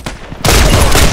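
Rapid gunfire in the shooter game Contract Wars, a few soft shots followed by a sudden loud, dense burst of overlapping reports that rattles on without pause.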